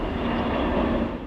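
A large NASA research jet flies overhead above Chicago, its engine roar a steady, loud broadband rumble that holds evenly for the whole moment and fades slightly at the end, with no voices.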